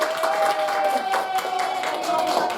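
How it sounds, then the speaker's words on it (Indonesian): A classroom group claps for the first discussion group, a short burst of scattered hand claps at moderate volume, with a faint steady tone and some murmuring in the background. "tepuk tangan untuk kelompok 1"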